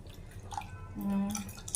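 Soaked tamarind is squeezed by hand in water in a home kitchen, giving a few quiet drips and a short trickle, close and alone with no talk.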